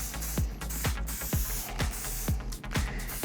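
Texturizing hairspray hisses from a can onto styled hair in six or seven short, evenly spaced bursts, each with a soft clicking start, close over a steady background hum.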